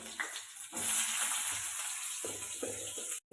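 Chopped onion hitting hot oil for a tempering sets off a loud, steady sizzle that swells after the first moment and holds with bright crackle, a few clatters under it, then cuts out briefly at the end.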